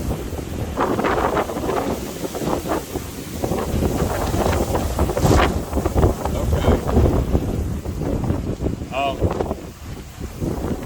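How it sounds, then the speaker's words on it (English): Strong gusts of wind at 30 to 40 miles an hour rumble and buffet the microphone continuously while someone talks over them. "wind's blowing like 30, 40 miles an hour"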